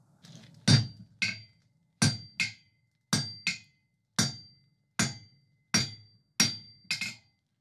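A blacksmith hammers hot steel on an anvil while forging a sea serpent sculpture, first spreading the metal on the hardy block. Nine close, ringing blows fall at a steady pace, often in pairs, with clear metallic ring and no talking.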